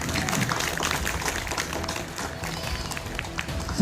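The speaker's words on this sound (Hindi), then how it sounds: "एक बार जोरदार तालियां पूरी कराएंगे टीम को" An auditorium audience at a college cultural event applauds a performing team, a continuous patter of clapping with crowd murmur and some voices underneath.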